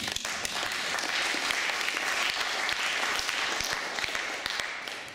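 An audience at a live evening stage event applauds continuously with dense, steady clapping, fairly distant and moderate in level, with no talk.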